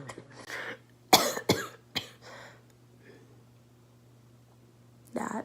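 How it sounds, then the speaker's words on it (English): Several harsh coughs burst out in a cluster, followed by a throat clear and a final cough after a quiet pause, close to the microphone. "I've been coughing for the past 4 days"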